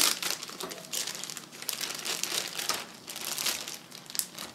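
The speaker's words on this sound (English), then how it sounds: "Now place this in a plastic bag." A plastic bag crinkles and rustles continuously up close as it is handled, with no voices.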